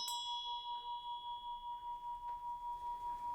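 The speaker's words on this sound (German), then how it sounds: "Glocke ist buddhistisch" A Buddhist bell rings out in one clear, sustained metallic tone that hangs on and slowly fades, fairly quiet, with faint room sounds beneath.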